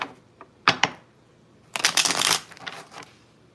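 Tarot cards shuffled for a reading, a couple of quick riffle bursts followed by a longer flurry of papery shuffling, close and clear with no talk.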